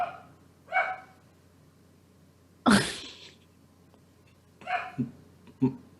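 A dog barking indoors, a few separate sharp barks spaced across several seconds, fairly close, one louder than the rest, with quiet room tone between.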